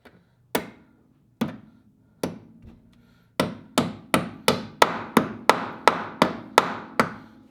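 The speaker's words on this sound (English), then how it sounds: "you put it in here, push this thing up, and you're gonna hammer it in" A part is hammered into a drum brake assembly on a 1965-1966 Ford Mustang: three spaced metallic strikes, then a quicker run of about ten sharp ringing blows, close and loud.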